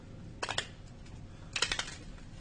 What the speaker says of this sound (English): now we're going to shuffle the cards up.